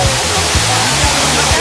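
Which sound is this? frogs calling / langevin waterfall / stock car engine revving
langevin waterfall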